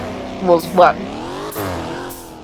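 A Volkswagen car drifting, its engine note rising and falling with bursts of revving and tire scrub across a couple of seconds, while people talk over it.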